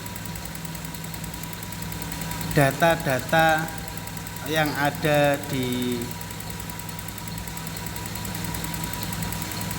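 A Toyota Soluna engine idles steadily in a workshop during a diagnostic scan, with a low continuous hum running throughout under someone speaking in two short bursts.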